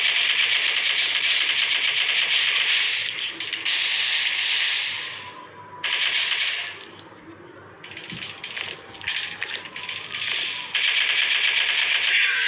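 AK-47 fire in an online FPS video game, heard as several sustained automatic bursts of rapid, loud, crackling shots separated by short pauses.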